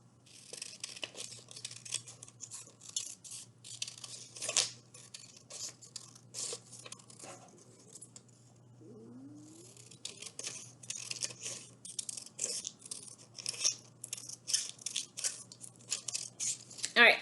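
Scissors snip along paper strips for a paper kite tail, producing crisp, repeated cutting and rustling bursts in a steady rhythm, close by, with a short lull midway and a low background hum.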